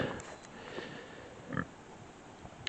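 Pigs in a farming video game run past and grunt, a faint mix of low oinks and snorts with one brief louder grunt, no talking.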